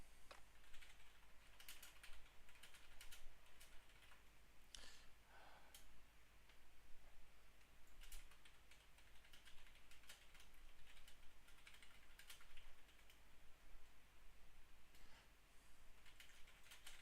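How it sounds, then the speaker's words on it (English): Steady, faint clicking of fingers typing on a computer keyboard, irregular bursts of keystrokes continuing for many seconds with no talk over them. "I'm just typing something."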